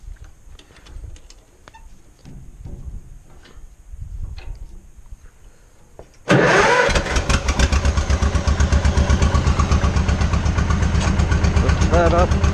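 A farm tractor engine turns over and catches midway, then settles into a loud, steady, close throbbing run. Quieter rustling and talk come before it starts.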